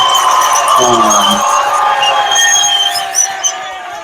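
A crowd cheers and whoops loudly for several seconds, the roar holding steady and then fading slightly toward the end, with voices mixed into the noise.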